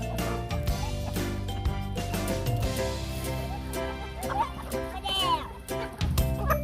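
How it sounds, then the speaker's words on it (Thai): Chickens cluck and gobble on a farm as they are fed, a busy mix of close bird calls under ongoing talk from adults and children. "ไก่ออกมากินอาหารไงลูก"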